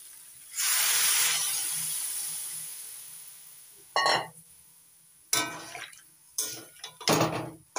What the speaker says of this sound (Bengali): কষিয়ে নিয়ে এবার দিয়ে দেবো পরিমাণ মতো জল।